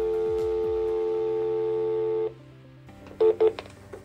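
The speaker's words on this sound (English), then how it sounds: "pick up your landline phone and dial star 73" Landline telephone keypad dialing star 73: a steady tone holds for about two seconds and cuts off, then after a pause two short, sharp touch-tone beeps follow, clear and close.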